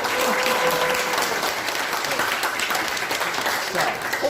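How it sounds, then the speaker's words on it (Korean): Audience applause after a life-planning lecture for a high school alumni association, a steady round of many hands clapping fairly close and even, fading slightly toward the end. "일단은 박수 한번 더 드리고"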